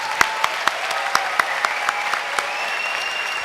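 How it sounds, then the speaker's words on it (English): A crowd applauds graduates at a university commencement ceremony, steady sustained clapping with a few sharp individual claps standing out, fairly close. "I think you all earned another round of applause."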